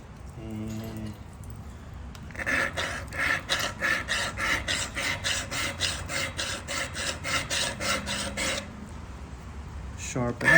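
A Flint River chert point is sharpened by flint-knapping, a fast run of regular scraping and rasping strokes close by, framed by a few brief clicks and taps at the start and end.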